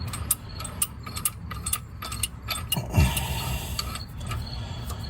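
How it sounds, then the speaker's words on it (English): Metal clicking and ratcheting as a socket turns to tighten a three-jaw puller on a 2006 Buick Lucerne 3.8L crankshaft, a run of light irregular ticks with one heavier clunk near the middle, close by and fairly quiet. "Now we just tighten this 3-jaw puller up, and we put a socket on there and start turning it"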